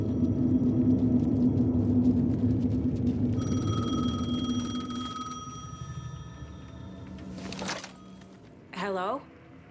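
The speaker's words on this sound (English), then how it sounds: "The payphone was ringing." A payphone rings in the Alan Wake 2 video game, with a repeating electronic ring over a low rumbling ambience, then it cuts off and brief sounds follow near the end.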